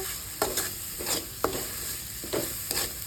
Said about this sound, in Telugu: కారం, బాగా ఫ్రై చేసుకోవాలన్నమాట